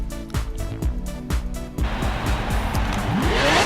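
A race car in Forza Horizon accelerates with a roaring engine through rapid gear shifts, then the revs climb steadily higher over rushing road and tire noise, loud and continuous.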